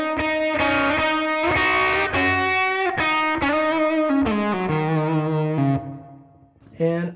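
Distorted electric guitar notes through a TONEX pedal ring out one after another with a roomy reverb tail, ending in a short final strum.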